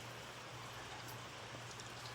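Steady, soft rain patters continuously on a rainy afternoon, a faint even hiss with scattered drops and a low constant hum underneath, no voices.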